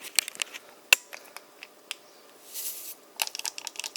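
Scissors snip open a Gatorade Zero Sugar Orange drink mix packet at close range, with sharp clicks and crinkling foil in scattered bursts and a brief rustle midway.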